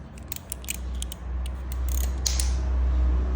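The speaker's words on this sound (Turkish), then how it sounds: "Bunu da 10 lokma ile söküyoruz." A socket wrench with a 10 mm socket ratchets off the chain guard covers of a Kuba Cristal 50cc scooter, giving a series of close, crisp metallic clicks over a low steady hum.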